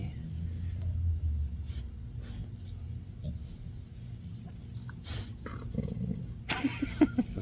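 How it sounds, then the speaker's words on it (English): A dog at an outdoor car show gives a low growl under a rumbling background, then short, sharp barks near the end. "He'll bark too. Or he'll growl at me."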